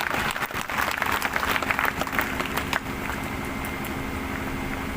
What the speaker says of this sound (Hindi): आप सब लोगों के लिए भी तालियां।